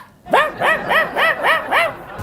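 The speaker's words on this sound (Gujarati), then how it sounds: "મંગુ, જો જો નાનું નાનું બબુડું ઢીંગલું, આ કૂતરું જો, જો" A toy dog gives six evenly spaced, high yappy barks up close, each with a bright rising-and-falling squeak, with no talking over them.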